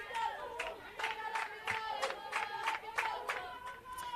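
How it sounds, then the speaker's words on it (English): A crowd at a state-level softball match between New South Wales and the Australian Capital Territory, chanting in a steady rhythmic pulse of repeated shouts, roughly twice a second, with cheering mixed in, moderately distant. "A lot of chanting, cheering, rhythmic drumming."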